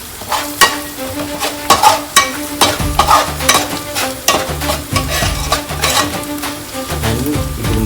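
Sliced green chillies frying in a pan are stirred, producing loud, close rhythmic scraping strokes of a utensil over a continuous hissing sizzle.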